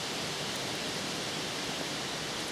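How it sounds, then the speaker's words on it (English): Steady, full broadband wind roars outdoors, constant and loud without gusts or pauses, alone with no voices. "No, that's just the wind. You're just hearing wind."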